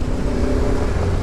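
Off-road vehicle rounding a corner on a dirt trail, its engine giving a loud, steady drone close to the microphone with no pauses or changes in pitch.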